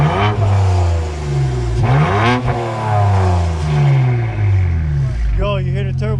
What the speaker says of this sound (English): you hear the turbo